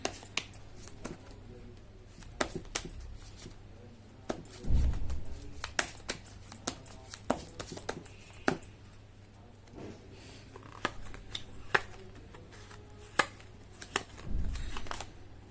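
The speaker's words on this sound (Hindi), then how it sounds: "कर लेती हूँ कार्ड की शफलिंग" Tarot cards being shuffled by hand, giving soft, scattered flicks and taps with a couple of fuller riffling rustles; close but quiet, with no talk.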